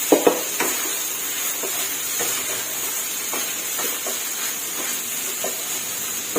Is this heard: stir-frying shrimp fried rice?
yes